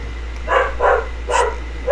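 An Australian Kelpie barks four times in short, evenly spaced woofs, loud and close, over a steady low hum.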